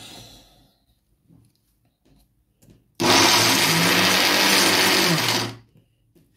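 An electric kitchen blender mixing bean batter for akara, whirring loudly and steadily for about two and a half seconds before cutting off, with quiet handling noises before it.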